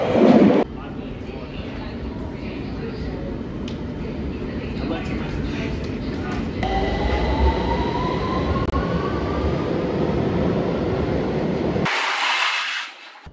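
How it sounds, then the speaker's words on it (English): A Victoria line London Underground train rumbles into Pimlico station, steady rolling roar with a rising wheel squeal near the end before it quiets. "And another train is approaching."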